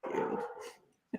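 A dog barks and growls behind a shut door, a single muffled sustained burst followed by silence and then a brief sharp yelp at the end.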